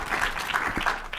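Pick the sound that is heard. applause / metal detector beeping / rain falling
applause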